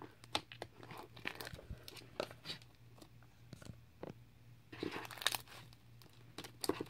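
Soft, close crunching and crinkling squishes of crunchy slime in irregular bursts, quiet, with no talking.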